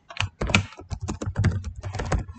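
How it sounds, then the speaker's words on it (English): Fingers tap rapidly on a computer keyboard, a close, dry patter of irregular keystrokes in quick bursts with no talk over it. "you can start typing"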